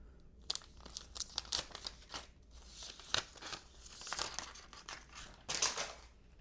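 AirPods Max 2 packaging is unwrapped up close, with bursts of crinkling, tearing paper and plastic rustles in uneven clusters, some sharp crackles standing out between softer handling noises.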